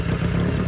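Kawasaki Z800 motorcycle engine held near 4000 RPM, a brief close-up buzzing engine note.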